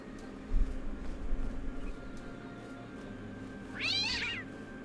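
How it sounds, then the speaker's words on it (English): A cat in the Talos Principle 2 game lets out a single clear meow near the end, rising and falling, after quiet low rumbling ambience. "A cat."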